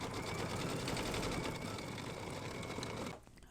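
An embroidery sewing machine stitches turkey feathers in light brown thread with a fast, dense mechanical chatter up close, then cuts off abruptly near the end.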